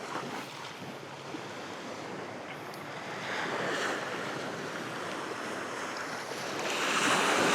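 Ocean waves break and wash close by at the shoreline, a continuous rushing surf with wind buffeting the microphone, swelling louder toward the end, no voices.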